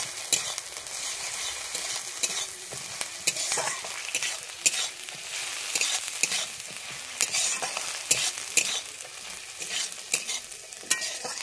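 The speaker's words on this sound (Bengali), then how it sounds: "দিয়ে আমি আবার একটু ভালোভাবে ভেজে নেব আদা রসুনটাকে।" Ginger-garlic paste frying in a hot pan for a restaurant-style egg curry: a steady, close sizzle with frequent crackles and pops and bursts of stirring, running without pause.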